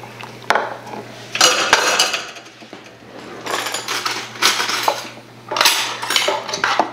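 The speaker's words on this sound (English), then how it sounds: "So I'm gonna add this to here and stir it up." A cold sugar mixture for homemade sorbet is stirred in a bowl, with bursts of clinking and scraping from a utensil against the bowl, separated by brief pauses.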